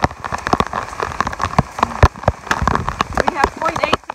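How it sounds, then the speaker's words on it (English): Heavy rain on a hike over Roan Mountain on the Appalachian Trail, loud close spattering drops hitting surfaces in irregular bursts, with some speech mixed in. "There's so much water coming down."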